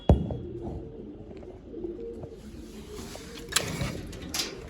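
Pigeons coo softly in a loft, faint low calls with scattered clicks and shuffling around them.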